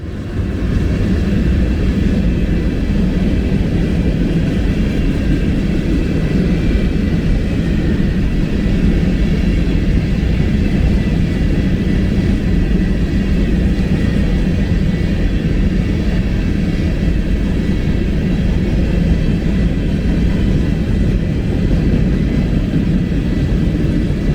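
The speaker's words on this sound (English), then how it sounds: "BNSF 4005 and 6702 make their appearance as they lead a 31-car sand train" BNSF freight sand train of 31 cars led by locomotives 4005 and 6702, a steady loud continuous rumble with engine drone passing close by for the full length, no voices.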